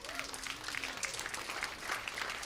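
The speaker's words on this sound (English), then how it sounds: "give a round of applause for that" Audience at a live songwriter night applauding, brisk crowded clapping with a few cheers and a voice briefly rising over it, steady and close throughout.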